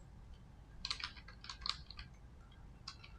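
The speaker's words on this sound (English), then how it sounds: "Let me type the entire sentence." Quiet clusters of keystrokes on a computer keyboard as a sentence is typed, soft close clicks in short irregular bursts over a faint background hum, no talk.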